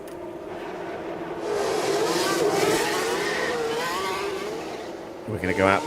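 A Ferrari Formula 1 car in F1 Manager 24 pulls out of the pit at the Italy round, its engine whine rising and sweeping past steadily, with a commentator talking over it.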